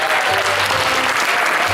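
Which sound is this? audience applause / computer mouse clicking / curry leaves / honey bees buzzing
audience applause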